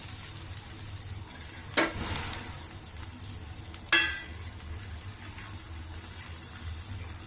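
Chopped ivy gourd (tindora) frying in a pan, a steady close sizzle throughout broken by two louder stirring scrapes.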